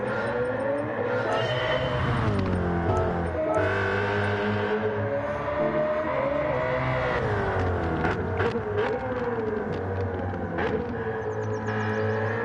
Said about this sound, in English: I love that engine in this car.